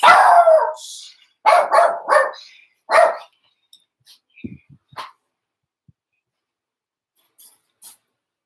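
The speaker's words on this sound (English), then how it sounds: "so my dog, started barking" A dog in a home barks in a quick series of loud, close, yelping barks at the start, then trails off into a few scattered softer yips and small noises.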